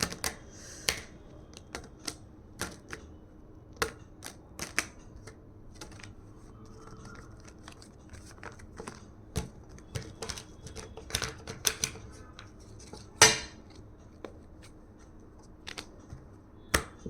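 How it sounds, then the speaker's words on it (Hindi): Tarot cards being shuffled by hand, heard as a long run of sharp, scattered card snaps and riffles with irregular rhythm, close and moderately quiet, with no talking. "I need to shuffle the cards."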